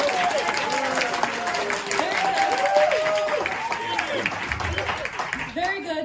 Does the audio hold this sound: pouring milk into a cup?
no